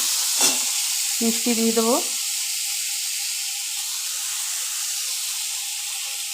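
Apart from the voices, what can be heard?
snake gourd and potatoes sizzling in pan while stirred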